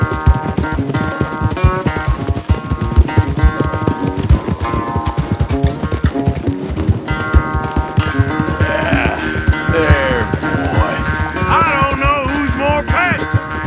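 A horse galloping in a race in Red Dead Redemption 2, loud rapid clip-clop hoofbeats in a steady driving rhythm, close up, with game music and effects layered underneath and no talk.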